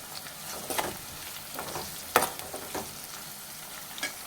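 Chopped onions fry and soften in a pan for a mutton curry with bagara rice, a steady close sizzle with occasional stirring scrapes and louder bursts, no voices.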